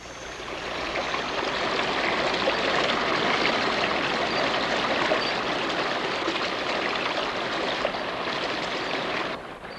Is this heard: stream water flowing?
yes